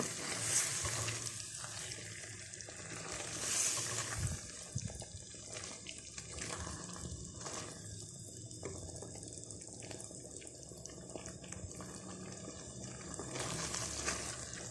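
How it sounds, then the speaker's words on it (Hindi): Potatoes, peas and minced meat (keema) fry together in a pan, giving a steady, close, moderately loud sizzle with bursts of crackle and hiss that runs through the whole stretch. No voices are heard. "आलू मटर कीमा अच्छे से भुन रहा है हमारा।"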